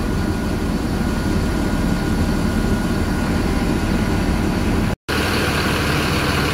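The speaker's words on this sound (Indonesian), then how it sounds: "Karena bus ini mesin depan ya, jadi di bagian belakang sini ya cukup terdengar ya suara dari mesinnya ya." Front-engine bus engine from a new Po. Haryanto coach, a steady droning low hum heard from the rear of the cabin, constant and moderately loud with a brief dropout near the end.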